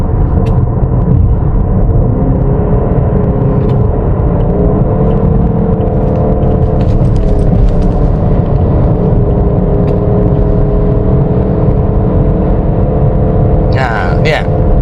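A small car cruises fast, above 120 km/h, with a steady, loud engine drone and road rumble heard from inside the cabin. Someone talks over the noise throughout.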